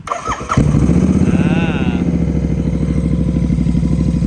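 A 2019 Royal Enfield GT650 motorcycle with an aftermarket exhaust cranks and fires up, then settles into a loud, rapid, throbbing idle; a voice speaks briefly during the start.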